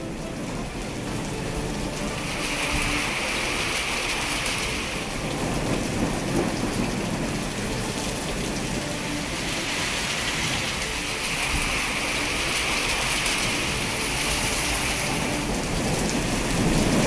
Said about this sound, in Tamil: ஜம்மு காஷ்மீர் மாநிலத்தில் இடி மின்னலுடன் பரவலாக கனமழை